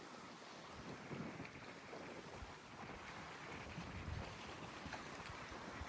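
Gusty wind blows steadily across open outdoor land, a continuous low rumbling roar of buffeting against the microphone with no voices, holding fairly constant for several seconds.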